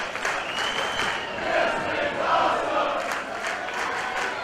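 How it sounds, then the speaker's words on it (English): Wrestling crowd at the Ultratorium during a women's match, a loud, continuous roar of cheering and yelling that swells and dips, with a commentator's voice under it. "And the crowd here at the Ultratorium telling you what it's all about."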